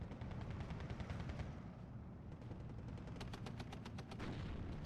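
Battle gunfire in the Steel Division 2 video game, a steady roar of low rumbling combat with rapid bursts of machine-gun-like shots standing out, heard at a distance and fairly quiet.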